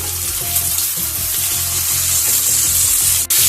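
Sliced onions with curry leaves fry in a hot pan, giving a loud, steady, close sizzle with faint stirring scrapes throughout and no talking.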